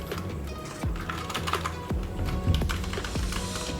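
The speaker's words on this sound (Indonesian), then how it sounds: "Ya, ini keyboardnya." Keys clack on a Dareu EK861 mechanical keyboard with brown switches, a close, irregular run of distinct taps and thocks over a quiet room hum.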